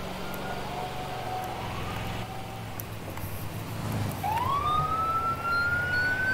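Ambulance siren in GTA FiveM roleplay, rising into a sustained high wail over steady engine and road rumble; it comes in strongly partway through and holds loud to the end.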